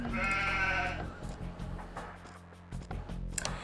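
Sheep bleating in the Age of Empires strategy game, a long wavering bleat up front followed by quieter game sounds, clicks and faint effects.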